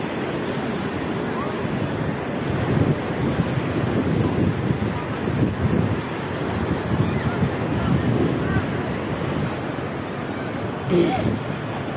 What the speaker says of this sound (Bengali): আর ঢেউগুলো অনেক বিশাল দেখেন